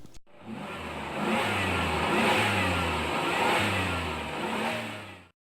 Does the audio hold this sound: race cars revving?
yes